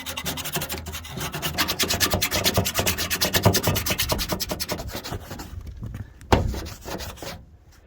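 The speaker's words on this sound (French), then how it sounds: "Là, il faut gratter après au cutter propre." A utility knife scrapes old silicone sealant off a surface during an insulation renovation, giving a steady, close rasping run of rapid strokes that fades out after a sharp knock near the end, with no voices.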